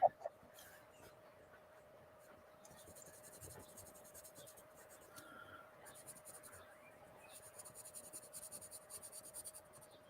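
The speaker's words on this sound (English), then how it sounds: "So this is just a HB pencil on Bristol board." HB pencil drawing on Bristol board, giving a steady soft scratching of graphite across the paper surface, with bursts of quicker strokes and a faint constant tone in the background.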